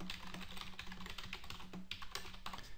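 Typing on a computer keyboard while setting up a shared folder in a course platform: steady, quiet clicking of keys in a continuous, slightly uneven rhythm, close and soft, with no voices.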